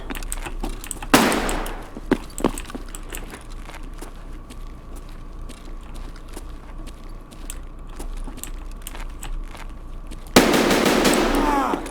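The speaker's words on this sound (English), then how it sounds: "I think I'm going to flashbang this corner and then push it." Gunfire and a flashbang in the video game Escape From Tarkov: sharp scattered gunshot cracks, a loud bang near the start and a long roaring blast at the end, with a steady ringing tone between.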